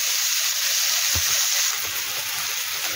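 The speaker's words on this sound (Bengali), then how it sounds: "পেঁয়াজটা একটু ভেজে নিয়ে তারপরে আলু দেব।" Onions sizzle in hot oil in a pan, a steady close hiss with a soft bump near the middle and no voices.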